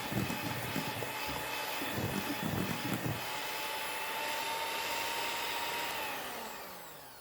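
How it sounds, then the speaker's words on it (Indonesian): An electric mixer beating eggs with organic cane sugar for a mung bean sponge cake, a steady loud whirring drone with rougher churning at first, then running smoothly before fading slightly at the end, no voices. "Mixer lagi telur hingga mengembang dan gula larut."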